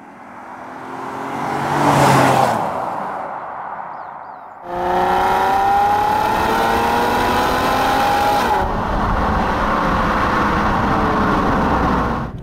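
A Nissan 370GT coupe's engine swells in a loud pass, then holds a sustained hard-driven rev with rising tones and a gear change, heard up close and without talk.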